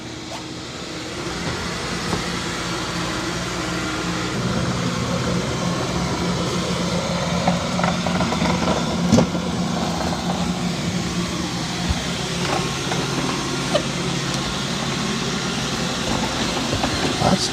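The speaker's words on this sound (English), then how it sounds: "It's doing a pretty good job of vacuuming and mopping." Roborock Q5 Pro robot vacuum vacuuming and mopping a floor with muddy paw prints, passing under furniture, heard as a steady mid-level motor whir and brush rumble with occasional small knocks and bumps throughout.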